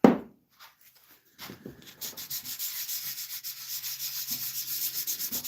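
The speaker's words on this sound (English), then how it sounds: "I'm just giving these a light sanding before the next coat of that tung oil" Light hand sanding of wooden pieces before another coat of tung oil: after a brief knock and pause, steady rhythmic rasping strokes build and continue, close and fairly loud, with no talk.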